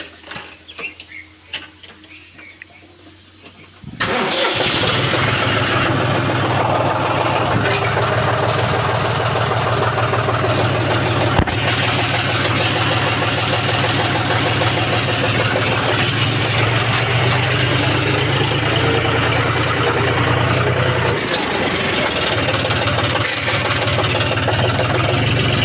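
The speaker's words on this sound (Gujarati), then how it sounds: "ટ્રેક્ટરને બહાર કાઢી લઈએ" A John Deere 5204 tractor, freshly serviced with new oil, oil filter and diesel filter, cranks and catches after a few seconds. It then settles into a loud, steady, close diesel idle with a low rumble.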